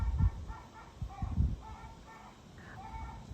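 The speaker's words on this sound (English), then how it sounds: "Can you hear my mom's chickens?" Chickens in a neighbouring backyard yard, faint distant squawks and clucks in a few short bursts over quiet outdoor background.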